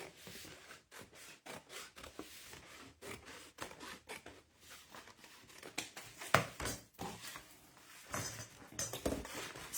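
Scissors snipping a scrappy edge off a paper strip while making a meander book for a junk journal, a run of close, crisp cuts and rustling paper with no talk.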